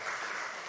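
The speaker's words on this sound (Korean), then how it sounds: "한 사람씩 부르면은 이게 그 박수 한번 쳐야 돼요" A congregation at an online Wednesday worship service breaks into brief applause, a steady, dense wash of clapping from many hands without talking, holding at an even level throughout.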